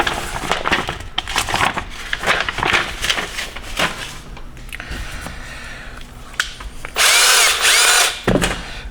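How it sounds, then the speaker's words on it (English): A power drill bores through the side of a 6L80 transmission pump casting in several bursts with clattering and scraping between, ending in a loud, sustained high-pitched grinding burst near the end. "Now we are going to drill a hole through the side of the casting."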